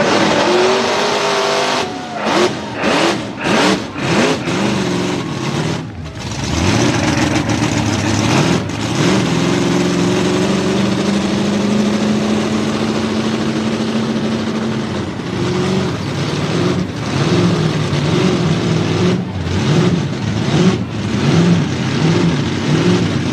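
A pulling vehicle's engine roars steadily and loudly throughout a 10,000 pound pull at a Chevy versus Ford truck pulling showdown, with surging revs and occasional sharp dips in the roar.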